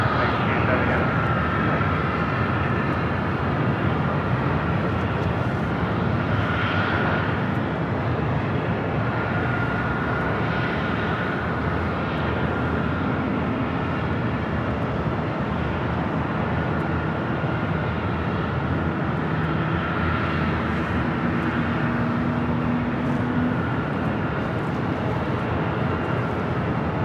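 An Airbus airliner rumbles at Los Angeles LAX airport, a broad steady engine roar heard at a distance throughout, with a person talking over it.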